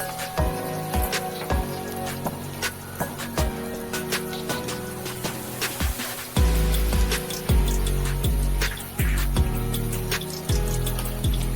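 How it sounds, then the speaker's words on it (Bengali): Chicken mince drops into hot, deep oil in a kadai for crispy pakoras, giving a dense, close crackle of popping bursts and sputters that grows louder and fuller partway through, with nobody speaking. "কড়াইতে তেল চাপিয়ে তেল গরম হয়ে এলে অল্প আছে চিকেনের কিমাগুলো দিয়ে ভালো করে বাদামি কালারের করে ভেজে নিতে হবে"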